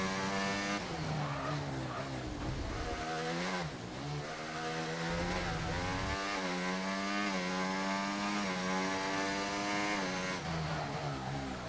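Racing car engine screaming through a lap in an F1 video game, steady high-pitched whine rising and falling through gear changes, loud and continuous with no talk.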